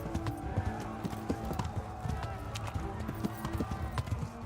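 Horse hooves galloping in Kingdom Come: Deliverance drum out a rapid, rhythmic clip-clop that stays steady and close, with game sounds and voices mixed in.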